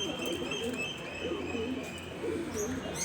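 A Tera pigeon at an Alexandria pigeon market gives repeated low, throaty coos at a moderate distance, with faint chirps and a steady hum of background noise.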